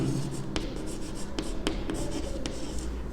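Pen writing on paper during a Class 10 coordinate geometry lesson, a soft continuous scratching with a few sharper taps, close and steady under low room noise, no talk.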